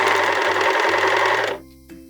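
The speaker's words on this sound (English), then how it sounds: "now we're gonna go ahead and serge it on" A serger stitches elastic onto the edge of handmade panties, whirring steadily and loudly at close range for about a second and a half before cutting off into near silence.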